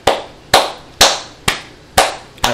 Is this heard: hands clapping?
yes